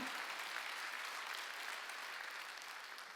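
A church congregation at a Sunday worship service claps together in a dense, sustained round of applause, steady and fairly distant, slowly easing off toward the end.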